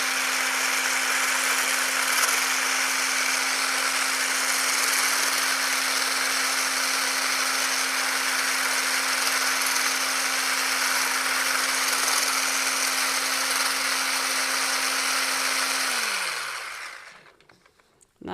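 A Ninja Creami machine mixes vanilla protein ice cream with a steady, loud, even motor whine that holds for about sixteen seconds, then winds down and stops.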